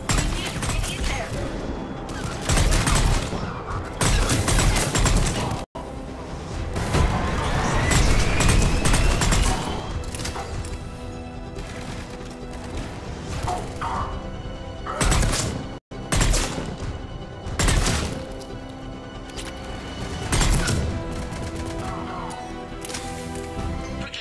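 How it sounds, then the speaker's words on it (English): Sustained gunfire and thumping impacts at a checkpoint under attack by Cerberus troops in the Mass Effect 3 video game, loud and dense bursts with music and brief pauses, faint voices now and then. "The checkpoint is under fire!"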